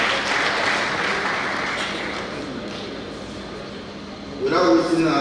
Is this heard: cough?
no